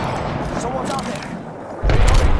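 Apex Legends gunfire booms in a burst of heavy shots that grows louder near the end, mixed with a player's voice talking.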